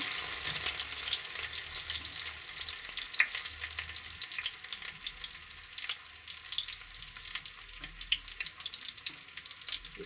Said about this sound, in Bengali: আগে আলুটাকে ভেজে নিচ্ছি